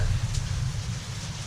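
Rain falling over rice fields among mountains in Laos, a steady close hiss of drops with a low rumble underneath, continuous and fairly loud.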